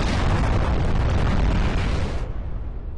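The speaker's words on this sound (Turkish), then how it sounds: "Bomba patladı." A loud, dense bomb blast in the shooter game Point Blank booms and rumbles for about two seconds, then tails off into a lower rumble.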